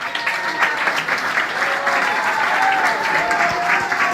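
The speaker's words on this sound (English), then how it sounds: "Can you clap for him?" A crowd of fellow Ugandans at a meeting in Boston breaks into steady, dense applause that keeps up without a break, with a few voices and cheers mixed in among the clapping.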